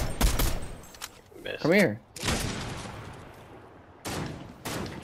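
Fortnite gunshots fired at an enemy come in loud, rapid bursts at the start and again near the end, with a short spoken phrase and game sounds in between.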